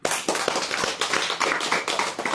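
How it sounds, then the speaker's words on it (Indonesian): An audience claps at a religious lecture: a short burst of scattered, uneven hand claps with distinct sharp slaps, fairly near, alone without talk. "Tepuk tangan."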